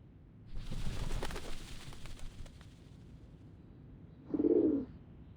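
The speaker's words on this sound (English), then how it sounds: "The doves of the Whitestone House are here." Doves coo at the Whitestone House in the video game Reverse: 1999: a short, close burst of soft cooing follows a rumbling, hissing ambient swell.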